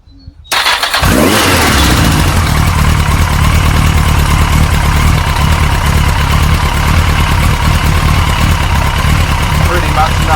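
A Yamaha XJ900S Diversion motorcycle engine catches after a short pause and settles into a loud, steady idle with a rough, throbbing rumble during carburettor balancing, running close and continuous.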